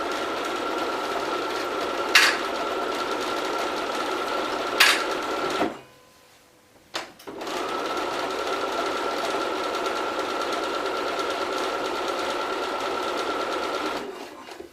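A sewing machine stitches lined fabric in steady, fast runs with a mechanical whir, broken by two short stops and a brief pause in the middle, close and loud with no talk.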